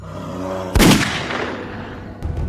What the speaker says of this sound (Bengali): এ কি, একটা গুলি চালালে কেন?